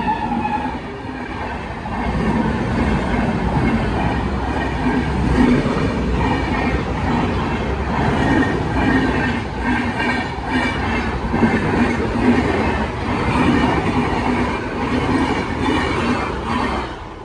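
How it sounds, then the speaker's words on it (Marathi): A train rolls past a closed railway level crossing on a road near Tulapur in Maharashtra, a loud, continuous rumble with rhythmic wheel clatter and metallic squeal, close and sustained from start to finish. "रेल्वे आली थांबा"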